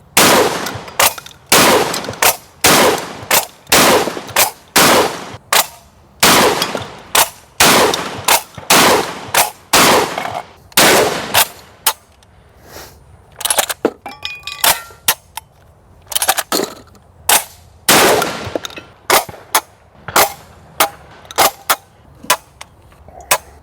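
A Çelik Arms Buck Master Gen 2 M gas-operated shotgun firing during a 1000-round torture test: loud, close sharp blasts in rapid, fairly regular succession, a brief lull midway, then more shots.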